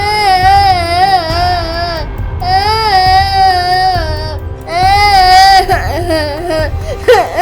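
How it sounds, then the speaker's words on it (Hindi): Cartoon-style baby crying in a Hindi horror animation, a loud, sustained wailing cry that rises and falls in repeated bursts with brief breaths between, set over a low background music bed. "इच्छाधारी नागिन को किसी बच्चे के रोने की आवाज आई।"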